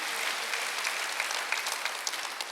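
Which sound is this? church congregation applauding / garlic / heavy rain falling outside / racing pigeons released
church congregation applauding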